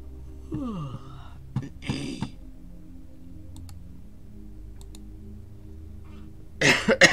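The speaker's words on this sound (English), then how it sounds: "That's my bird coughing." A pet bird makes a few short, rough coughing sounds up close in a quiet indoor room, with light clicking or typing-like noises and a louder burst at the end.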